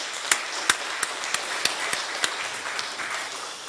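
Faint, sparse hand claps ring out in a Korean church service in Daegu, a slow, fairly even series of sharp individual claps with quiet room noise between them.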